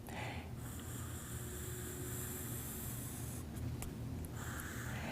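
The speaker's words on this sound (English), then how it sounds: "We're going to create a rectangle, or kind of like a box, around the word surprise" Violet pencil drawing a rectangle on paper, with a steady scratchy scraping of lead on the page that pauses briefly between strokes, close and quiet against low background hiss.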